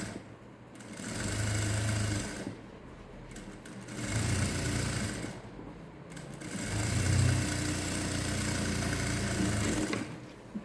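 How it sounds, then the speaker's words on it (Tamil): Sewing machine double-stitches wide elastic onto a peplum top, running in a steady close-up whir in three long bursts of a few seconds each, separated by short pauses. "நான் பட்டையான எலாஸ்டிக் வச்சதுனால டபுள் ஸ்டிச் போடுறேன்."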